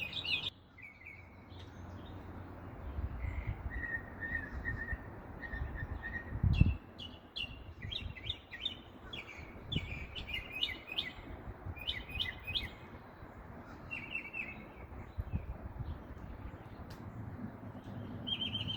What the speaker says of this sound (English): The birds are very chatty this morning.